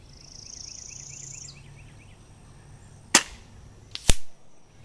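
Two sharp, loud reports from a .30 caliber rifle fired at targets about 195 yards away outdoors, spaced about a second apart, after a stretch of faint insect-like buzzing.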